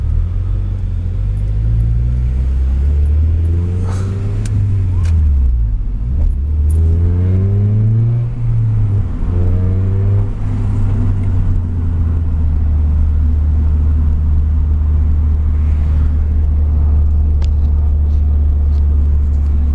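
A fifth-generation Honda Prelude's engine hums steadily while driving, rising and falling through several smooth revs in the first half before settling into an even, low cruising drone.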